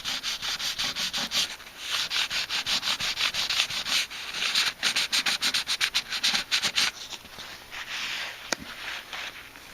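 Hand sanding of filler on the front panel of a Hallicrafters SX-28A radio, close and steady, with repeated rhythmic rubbing strokes in quick bursts and a brief pause near the end.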